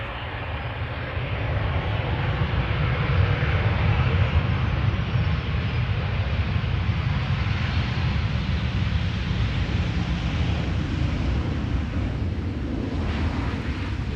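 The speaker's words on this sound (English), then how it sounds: "737-700, KLM arriving from Milan" A KLM Boeing 737-700 arriving from Milan at Amsterdam Schiphol rumbles past in a loud, steady broadband engine roar that holds for the whole stretch without talk.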